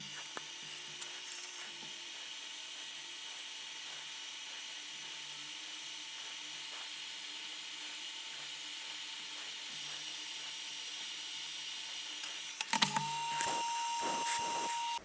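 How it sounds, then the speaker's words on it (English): A hot air rework station blows steadily over a circuit board while a tiny LED is heated loose from a battery-powered soil moisture sensor, a continuous airy hiss with light clicks and handling noises near the end. "I will need to use my hot air station, try to heat up the board, and carefully remove that LED physically from the board"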